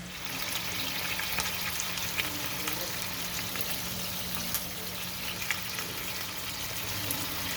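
Bison cutlets fry in a pan with a quiet, continuous sizzle broken by scattered small pops and spits, steady and close over a faint low hum.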